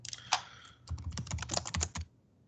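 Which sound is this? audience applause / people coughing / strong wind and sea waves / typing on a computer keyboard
typing on a computer keyboard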